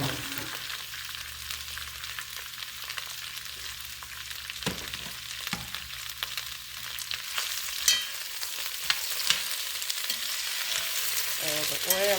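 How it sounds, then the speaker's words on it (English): Cabbage sizzles and fries in hot vegetable oil in a pan, a continuous crackling hiss. Occasional scrapes and stirring knocks sound close by, and the sizzle grows slightly louder toward the end. "So the oil is going to be on all of the cabbage, so I can saute it."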